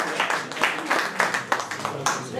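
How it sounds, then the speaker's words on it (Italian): An annual assembly audience of the Misericordia in Caltanissetta applauds, a moderately loud crowd clapping that swells in regular pulses, with small surges every half second or so. "Accogliamo con un applauso"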